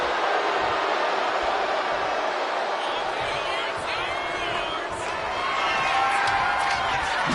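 Arena crowd noise from a WWE 2K25 SmackDown match in the video game, a steady loud roar of cheering that swells slightly toward the end, with no voices in the foreground.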